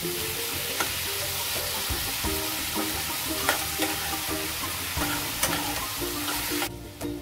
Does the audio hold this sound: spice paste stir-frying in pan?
yes